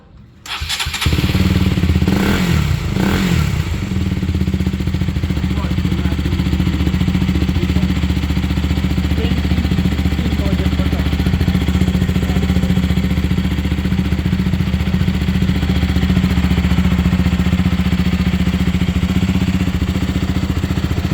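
A KTM Duke 200 motorcycle cranks and fires within the first seconds, then settles into a loud, steady idle that runs close up and unbroken for about twenty seconds.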